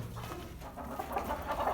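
Roosting chickens settle in their coop at night, giving soft, low clucks and murmurs close by, a quiet continuous chatter.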